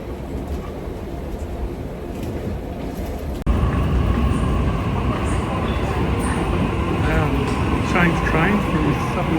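A Sydney commuter train leaving King's Cross rumbles with a steady loud drone that jumps up in level partway through, with faint voices underneath.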